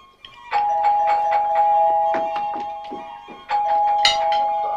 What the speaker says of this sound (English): Rang his doorbell.